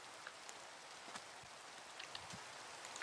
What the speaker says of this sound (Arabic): في نزل علينا مطر